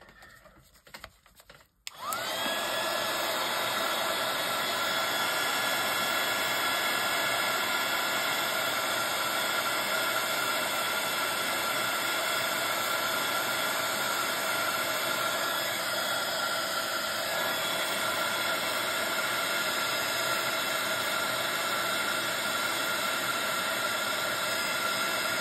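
A kitchen appliance whizzing continuously while drying food, a loud, steady mechanical whine with a broad noisy roar that starts abruptly after a moment of quieter sounds and runs unbroken.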